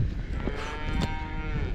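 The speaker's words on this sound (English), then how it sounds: "Some cows in there." Cows low from a farm pen on a Lake District fell walk, a drawn-out moo with strong harmonics, moderately distant over outdoor ambience and light wind.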